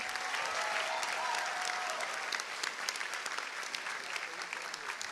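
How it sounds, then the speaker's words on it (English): A graduation ceremony audience gives a sustained round of applause for the awards, a dense, even wash of clapping from a large crowd with no letup. "Can we please get one big final round of applause for all of the awards that have been given tonight?"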